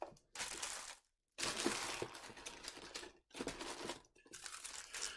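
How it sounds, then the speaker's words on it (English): Plastic LEGO packaging bags are crinkled and crushed by hand in close, loud bursts of rustling, broken by two short pauses of silence. "Get rid of these plastic bags here."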